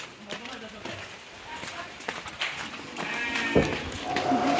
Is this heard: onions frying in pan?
no